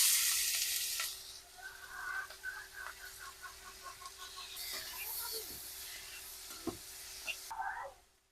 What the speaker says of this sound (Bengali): মাছও ভেজে নিচ্ছি